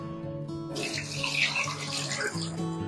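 A small splash of water poured into a pan of restaurant-style chicken nizami curry, a steady running hiss that starts after a brief pause and continues to the end over a low background hum.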